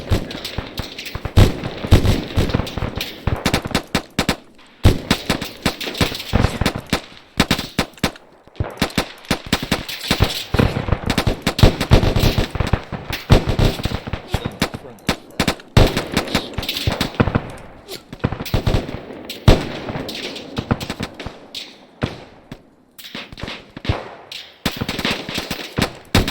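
Gunfire in an Arma 3 firefight: loud, close bursts of automatic fire and rapid single shots keep going throughout, with short pauses and shouted voices mixed in.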